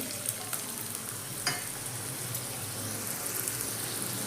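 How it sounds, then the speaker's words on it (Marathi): Dried diced potato fries in hot oil for sabudana khichdi, giving a continuous soft sizzle with a few light clinks from stirring nearby. "तेल तापलेलं आहे आपण आता घालूया"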